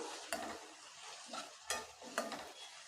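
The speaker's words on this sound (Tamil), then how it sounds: "இப்போ இது வதங்கிட்டு இருக்கட்டும்" Ingredients for a spicy country chicken curry sizzle faintly in a pan while a spoon stirs and scrapes at them in a few separate strokes, close and fairly quiet.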